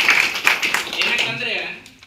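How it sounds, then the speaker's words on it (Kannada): Audience at a village panchayat meeting applauds together, with dense clapping under a voice and then fading out toward the end. "ಚಪ್ಪಾಳೆ ತಟ್ಟದ ಮೂಲಕ ಒಂದು ಅಭಿನಂದನೆ."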